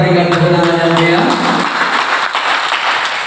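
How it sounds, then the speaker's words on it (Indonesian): Audience applauding at an inauguration ceremony, a dense, steady wash of clapping that holds for several seconds, with a sustained voice or tone fading out early on. "kita berikan tepuk tangan yang meriah"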